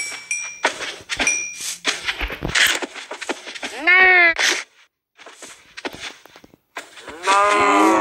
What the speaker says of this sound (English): Look at all those cows.